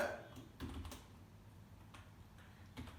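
Java code typed on a computer keyboard, heard as scattered soft key clicks in short irregular bursts, close and quiet, with a faint voice in the background.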